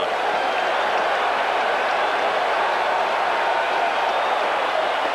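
A huge baseball crowd at a 1986 World Series game between the Boston Red Sox and New York Mets roars in a dense, unbroken wash of cheering and applause, loud and sustained throughout.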